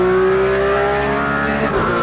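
Porsche GT3 RS engine in a racing video game, loud and continuous with a strong harmonic whine that rises and falls as the revs change, briefly dipping near the end.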